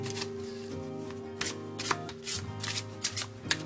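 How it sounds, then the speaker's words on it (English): A Mind, Body, Spirit tarot card deck is shuffled by hand at close range, soft riffling bursts and sharp snaps repeating in irregular rhythm, quiet, over a faint steady background hum. "Let me do the shuffle and cut the deck."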